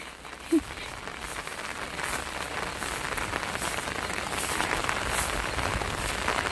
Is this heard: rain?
yes